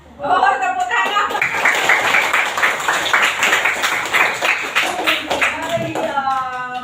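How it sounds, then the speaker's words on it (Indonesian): Classroom clapping in a school lesson, many hands beating in a quick steady rhythm for several seconds, close and loud, with children's voices and chatter mixed in underneath. "Oh, tepuk tangan."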